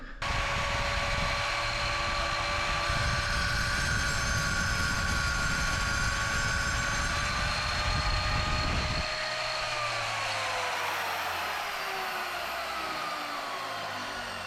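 A wet tile saw with a diamond blade runs loud and steady while a curved cut is made in tile, a constant motor whine with a heavy low grinding layer that drops away about two-thirds through as the blade clears the piece.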